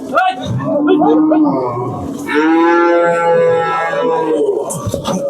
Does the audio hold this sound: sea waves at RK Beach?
no